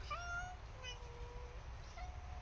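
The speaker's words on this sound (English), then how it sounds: "We have been blessed with another cemetery cat." A cat in a cemetery meows plaintively several times, drawn-out complaining cries at moderate distance over a steady outdoor background hum.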